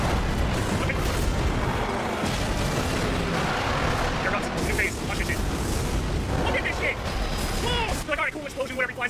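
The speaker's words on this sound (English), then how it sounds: "explosion whenever he flies around" Loud, dense explosions from a boss battle in the video game Hollow Knight, a continuous roar of booms and blasts with bursts of crackling impacts near the end, under someone talking.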